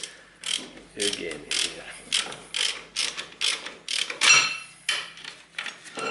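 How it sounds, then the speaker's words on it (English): Rapid ratchet clicks in repeated bursts as a brake bolt is tightened on a Nissan front brake during a disc replacement, close and fairly loud, with brief speech in between. "And then I can fasten this bolt"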